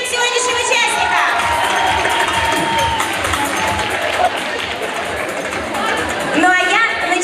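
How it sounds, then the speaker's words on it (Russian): A lively concert-hall audience at a talent show applauds and cheers for contestants, with shouts and whoops over dense clapping that stays loud throughout. "И первая поддержка ваша – это ваши бурные аплодисменты всем сегодняшним участникам."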